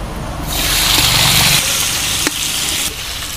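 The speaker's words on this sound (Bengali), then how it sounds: "তেল গরম হয়েছে, এখন মাছগুলো দিয়ে দেবো।" Fish sizzling as it drops into hot oil in a frying pan, a steady, loud hiss of frying with a brief sharp pop near the end, no voices.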